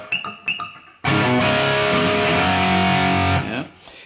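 A slow electric guitar phrase from a riff: a couple of short muted picks, then a loud, distorted sustained chord that rings for about two seconds before decaying.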